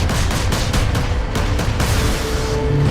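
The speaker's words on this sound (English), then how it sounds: "Power core exploding." A power core explodes in Warhammer 40k Space Marine, a loud rapid burst of booming blasts and gunfire-like cracks in quick succession, densely layered.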